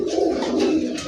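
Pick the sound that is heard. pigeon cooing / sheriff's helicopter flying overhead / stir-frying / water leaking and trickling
pigeon cooing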